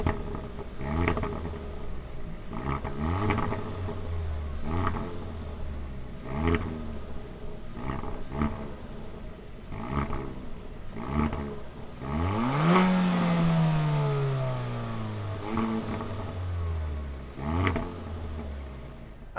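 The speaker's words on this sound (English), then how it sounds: "let's fire up this Forte GT and hear what it sounds like" 2020 Kia Forte GT engine idling with a lumpy, pulsing exhaust rhythm, then one loud rev that swells and drops back to idle, followed by a few smaller blips, heard alone.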